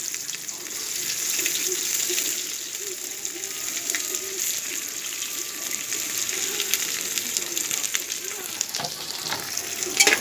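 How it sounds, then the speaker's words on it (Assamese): Spice paste for biryani fries in a pressure cooker while it is stirred. A constant, hissing sizzle runs throughout, with soft scraping movements mixed in. The sound is fairly close, and no one talks. "এতিয়া এইখিনি লৰাই অকণমান ভজা হোৱালৈকে এনেকৈ এৰি দিম।"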